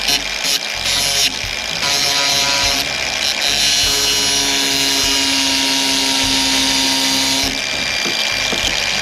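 An old Craftsman power tool runs at speed with a loud, steady, high-pitched whine and buzz, close by, after a few brief starts, and then cuts off near the end.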